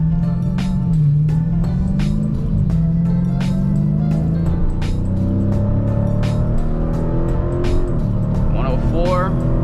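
2020 Dodge Challenger Scat Pack Widebody engine accelerating from inside the car, a loud low steady drone with rising and falling pitch beneath someone talking throughout.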